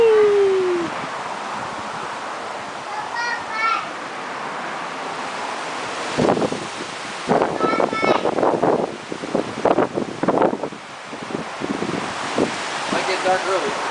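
Strong gusty wind roars against the microphone outdoors in Porter Ranch, loud and buffeting, with people talking through it and a brief whistle-like tone at the start.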